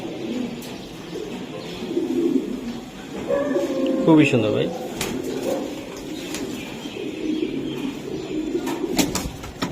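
Racing pigeons of a club racing stock coo softly in a loft, low murmuring calls running through the clip beneath a man's nearby speech.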